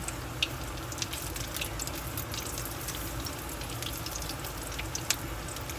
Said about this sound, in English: you're gonna fry these until they're nice and golden brown